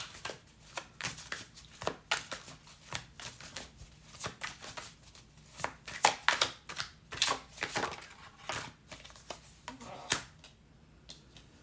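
Fountain Tarot cards being shuffled by hand, a quiet, close series of crisp riffling and tapping bursts in an irregular rhythm, with no talking.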